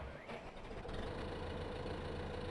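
Small tractor engine idling in Farming Simulator, a steady low diesel rumble that holds continuously and close, with no talk over it.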